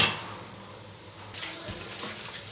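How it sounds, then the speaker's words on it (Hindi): Potatoes going into a pan of golden fried onions and ginger for chicken aloo salan, a steady watery hiss and sizzle, moderately loud and close, with no talking. "गोल्डन हो गया है, अभी मैं आलू डाल देंगे।"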